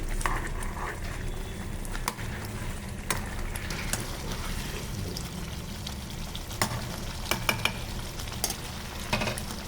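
Prawn and cashew curry with garam masala stirred in a pan, a steady soft sizzle with scattered scraping clicks of the spoon, close and fairly quiet, no voices.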